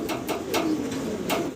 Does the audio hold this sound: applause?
no